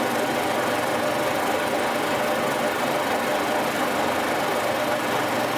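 An old boring machine faces a block, giving a loud, unbroken mechanical drone with a rough, rumbling grind throughout. Nothing else can be heard.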